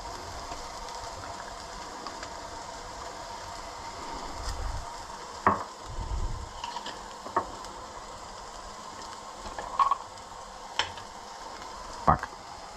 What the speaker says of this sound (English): Now you add the ginger and the garlic